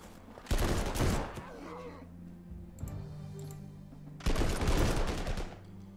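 Infantry assault gunfire in Panzer Corps 2, two loud crackling volleys of rifle and machine-gun fire about four seconds apart, with a fainter burst between them.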